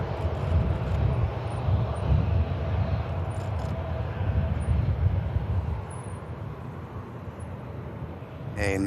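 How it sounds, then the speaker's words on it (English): Singapore Airlines A350 departing Manchester Airport, a loud, broad, steady jet engine roar that eases slightly toward the end, with faint voices underneath. "on the way out now is that Singapore 350 I mentioned before. A nice departure."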